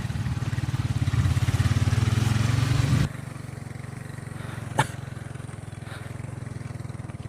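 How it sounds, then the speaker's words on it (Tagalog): Motorcycle engine labouring up a steep slope, a loud strained drone for about three seconds that then drops to a steadier, quieter running hum, with a brief knock partway through. "Kawawa yung motor, pilitin natin."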